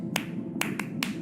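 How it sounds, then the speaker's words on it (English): Sperm whale coda clicks in a 1+1+3 pattern from the Eastern Caribbean, heard in the video game Beyond Blue: four or five sharp, close clicks over a steady low hum. "In the Eastern Caribbean, they make a lot of what we call a 1 + 1 + 3."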